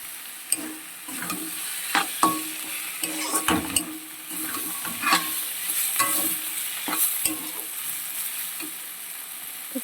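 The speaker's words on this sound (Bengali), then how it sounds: "আর একটু নাড়াচাড়া করে নামিয়ে নেবো" A spoon stirs a hilsa fish-head and pumpkin curry in a pot, sharp scraping knocks in irregular rhythm over a steady simmering sizzle, close and fairly loud.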